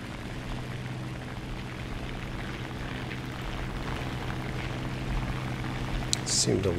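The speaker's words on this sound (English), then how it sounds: "Alright, plane coming in." A propeller aircraft engine drones and grows louder as it approaches in the War Thunder tank battle game, a steady low hum layered over background noise with a sharp burst near the end.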